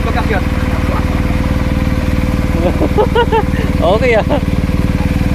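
BMW R1250 motorcycle engine idling close by with a steady low pulsing throb, while someone speaks over it.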